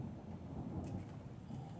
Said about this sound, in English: did you hear that? There's some more lightning